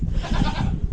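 Several goats bleat together in a pasture pen, overlapping wavering calls close by and fairly loud for about a second.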